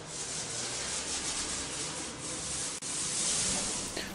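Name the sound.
paint roller rolling on garage wall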